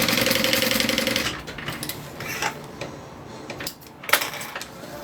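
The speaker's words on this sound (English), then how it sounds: "I'm going to go ahead and sew open my side seams" A sewing machine runs in a steady whirring burst while stitching open the side seams of a lined garment, then stops, followed by scattered light ticks and clicks.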